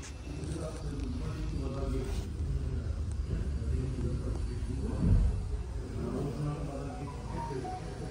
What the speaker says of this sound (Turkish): Bir çalıştıralım, bir bakalım arkadaşlar.